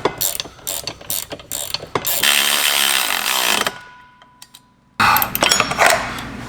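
A ratchet tightens the six driveshaft bolts at the differential of a BMW E36 325 fitted with an M3 drivetrain. Close, loud bursts of rapid clicking come in short runs, broken by a brief quiet pause.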